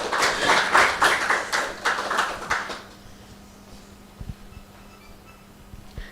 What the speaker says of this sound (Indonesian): Berikan tepuk tangan dulu untuk Kakak.